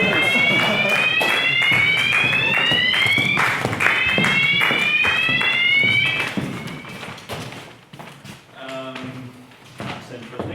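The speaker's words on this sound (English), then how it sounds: "That's the fire alarm." A fire alarm goes off during a research concert talk: repeated rising electronic sweeps with tapping and thuds underneath, then a series of short, stepped beeps. There are voices in the room around it.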